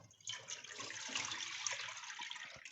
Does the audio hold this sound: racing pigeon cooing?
no